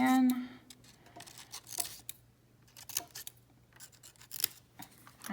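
Scissors snipping paper for a collage, a few short crisp cuts spaced apart, faint and close, with a voice speaking at the start.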